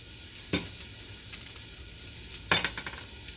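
Sweet potatoes sizzle quietly in a frying pan while a utensil scrapes and stirs them twice, with soft clatters in between.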